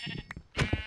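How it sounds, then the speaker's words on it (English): Sheep bleating in the Minecraft video game: a short, close, nasal bleat breaks out sharply on its own, preceded by a brief softer sound. "The poor sheep is just crying out loud."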